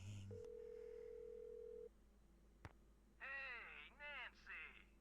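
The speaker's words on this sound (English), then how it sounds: "The phone is ringing." A telephone in the Nancy Drew game The White Wolf of Icicle Creek rings with a short tone, then a long steady ring tone, followed by chirpy warbling electronic bursts, quiet and clean.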